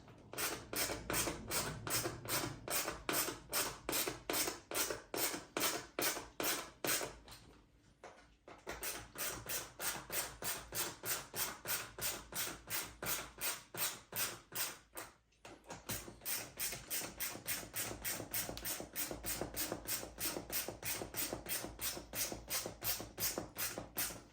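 Screws on an RC car's battery box are tightened with a ratcheting tool: a close, steady run of quick, even clicks that repeats for long stretches, broken by two short pauses.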